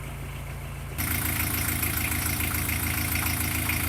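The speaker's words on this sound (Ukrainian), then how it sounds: "Мотор крутиться" A UAZ vehicle's turbocharged Andoria engine idles with a steady low rumble, then grows louder and rougher after about a second, running on evenly.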